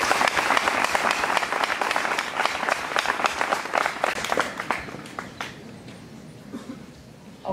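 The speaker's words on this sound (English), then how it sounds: "I want only the students to clap for the teachers." Students at a school awards ceremony applaud their teachers, a sustained, dense crowd clapping that stays loud and steady before gradually thinning toward the end.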